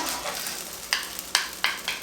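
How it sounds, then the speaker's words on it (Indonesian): Butter fried rice being stirred with a spoon, a few distinct scraping clinks of the spoon against the dish spaced out over a faint background hiss, close and fairly quiet. "aduk pakai sendok bekas mentega"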